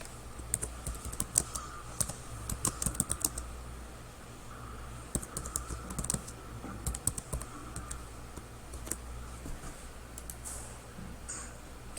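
Typing on a computer keyboard in a classroom, quick bursts of light clicking keystrokes with short pauses between runs, close and fairly quiet over a low steady hum.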